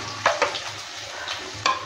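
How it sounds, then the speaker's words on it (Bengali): Chopped garlic and onion fry in a pan, with a close, steady sizzle broken by a few spatula scrapes. "রসুন আর পেঁয়াজটাকে ভালো করে ভেজে নেব"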